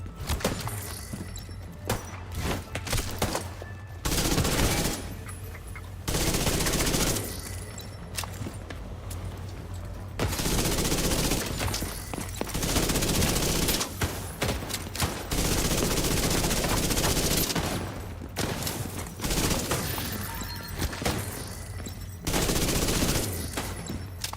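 Video game gunfire in bursts of rapid automatic shots and fusillades, loud and close, separated by brief lulls with occasional thuds and footsteps.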